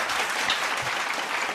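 Scattered applause from an online morning devotion audience, a short steady patter of clapping at moderate level with no voices over it.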